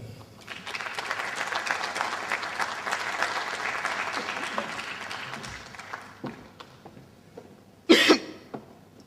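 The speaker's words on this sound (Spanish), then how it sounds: "quisiera que con un aplauso le diéramos la bienvenida a nuestro invitado" Lecture audience applauding to welcome a guest speaker, a steady broad wash of clapping that fades after about six seconds, followed by a short sharp burst of noise near the end.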